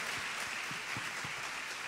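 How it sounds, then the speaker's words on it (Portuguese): Church congregation at Nova Vida de Bangu applauding the children's group, a steady dense wash of clapping with a few sharper individual claps, continuous and fairly close for the whole stretch. "a dar uma linda salva de palmas para essa galera da NV Kids"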